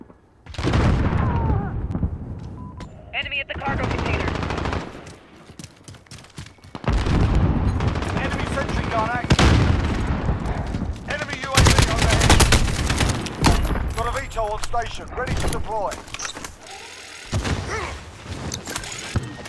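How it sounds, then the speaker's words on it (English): A sentry gun in Call of Duty Modern Warfare multiplayer rattles out loud, sustained automatic bursts mixed with booms and explosions, dense near gunfire that pauses briefly between volleys. "they got a sentry gun over here"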